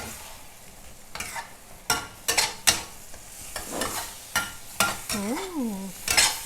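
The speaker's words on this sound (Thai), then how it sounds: "คลุกเคล้าส่วนผสมให้เข้ากันค่ะ" Ingredients for a spicy pork belly and eggplant stir-fry are stirred and mixed in a pan, with repeated close spatula scrapes over a steady sizzle in an irregular rhythm.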